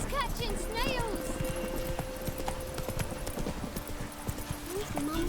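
Hooves of Roach, Geralt's horse in The Witcher 3, clip-clopping at an easy steady pace through Crookback Bog, with a brief whinny early on and someone speaking over the rhythmic hoofbeats.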